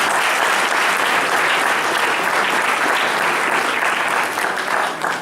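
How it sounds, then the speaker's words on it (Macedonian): Steady, loud applause from a school audience at a patron-day celebration for SOU Gjorche Petrov in Prilep, dense clapping sustained throughout with no talk. "Еден аплауз за Ѓорче Петров училиште."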